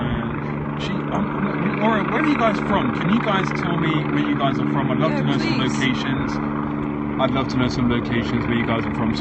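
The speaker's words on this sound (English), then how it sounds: "Sorry about the helicopter. We cannot control the noise." Helicopter hovering overhead, a continuous loud droning rotor and engine hum with steady tonal bands, running throughout beneath a person talking.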